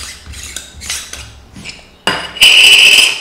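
Metal parts of a Celestron 0.7x focus reducer and SCT adapter being handled and screwed together for a Celestron Edge 11 telescope, with soft clinks and scrapes building to a louder, sustained metallic ringing scrape near the end.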